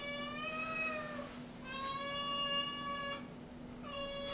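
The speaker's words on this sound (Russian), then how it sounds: "Драка кошек. Вот этот звук хороший" A recording of cats fighting plays: drawn-out, wavering yowls and caterwauls rising and falling in two or three long cries over a constant low hum.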